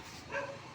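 A small dwarf dog gives a single short, faint bark outdoors, brief and slightly distant against a soft background hiss.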